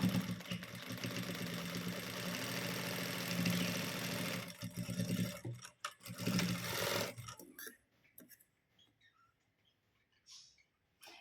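A sewing machine stitching a folded blouse seam, running in a steady close mechanical whir that breaks up into short bursts and then stops, leaving near silence. No one talks.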